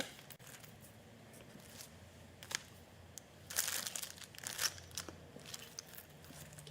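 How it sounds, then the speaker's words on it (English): Thin gold foil crinkles and crackles while being handled for nail art, soft rustling throughout with a brighter burst of crumpling near the middle, close and fairly quiet. "I'm just gonna use the gold foil"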